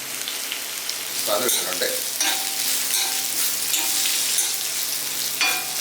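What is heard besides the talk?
split green chilies frying in a pan for bitter gourd stir-fry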